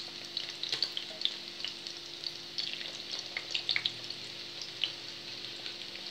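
Corn kernels fry in a pan over low heat, a steady soft sizzle with scattered crackles and light stirring scrapes throughout, fairly quiet and close with no talking.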